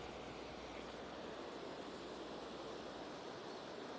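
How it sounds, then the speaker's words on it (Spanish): A full river rushes beneath a bridge in a steady, broad roar of water, constant and fairly close, with no talking over it. "Y más que el río, miren cómo está pasando. O sea, está full el río."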